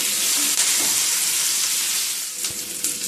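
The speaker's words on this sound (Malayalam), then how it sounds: "ഉള്ളി ഒത്തിരി ബ്രൗൺ ഒന്നും ആവണ്ട, നന്നായിട്ടൊന്ന് വഴന്നാൽ മതി" Onions cut in fairly large pieces sautéing in a pan for idli uppittu, a steady broadband sizzle holding close and loud throughout with a few faint clinks of stirring and no talk.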